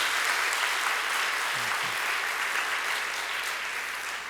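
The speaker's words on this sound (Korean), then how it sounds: "자, 청년분들 박수로 격려합시다." Church congregation at a Sunday afternoon service applauds the young people of the youth praise team with dense, continuous clapping that holds steady and fades slightly at the end.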